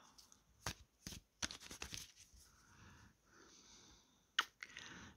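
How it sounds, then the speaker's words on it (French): Playing cards are shuffled by hand in a quiet room, a series of quick riffling bursts and soft flicks separated by pauses, close and faint. "Je bats les cartes, mes chères cartes."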